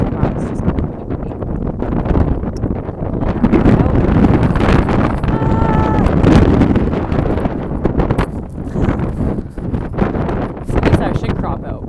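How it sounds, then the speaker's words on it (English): Heavy wind buffeting the microphone, a loud continuous rumble with gusts, while a person talks underneath. "it's just going really windy"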